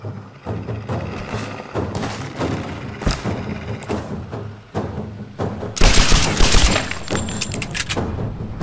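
Bursts of gunfire and heavy thuds from the Tomb Raider video game, with a louder, denser volley of rapid shots near the end, all set against a constant game soundscape.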